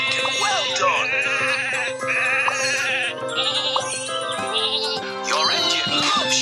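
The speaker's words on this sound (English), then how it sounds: "Some sheep have wandered off from the farm." A Thomas toy train set plays electronic sheep bleats, several loud wavering cries in quick succession layered over bright synthesized toy music.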